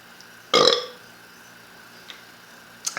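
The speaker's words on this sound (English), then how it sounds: "And I have to burp." A single short, loud burp lands close to the mic after a quiet moment, followed by faint ticking and small clicks.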